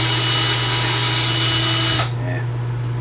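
A power drill drives a screw into pallet wood, a steady loud whir that cuts off sharply partway through, followed by quieter room sound.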